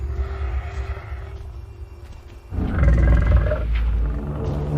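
Several lions in a pride roar together, a deep rumbling burst that swells loud and close midway after a quieter low growling stretch, with no talk.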